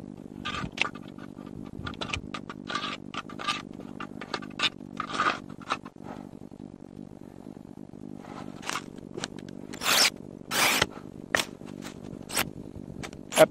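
Pruning shears snip through branches of a young Chandler walnut tree in an orchard, giving sharp crisp clicks and cuts at irregular intervals, close by over a faint outdoor background.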